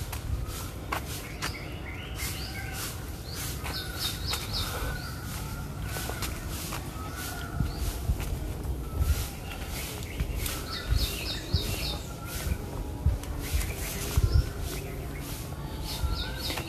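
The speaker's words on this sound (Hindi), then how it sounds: "आप कोयल की आवाज़ भी सुन सकते हैं" Koel and other birds call repeatedly through a young Miyawaki-style urban forest in Lahore, with chirps and tweets layered over a steady outdoor rumble and occasional footsteps nearby.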